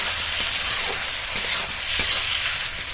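Chopped firm tomato and green chilli frying in a spice paste, a loud continuous sizzle broken by several sharp spoon-against-pan stirring clicks, close up with no voices.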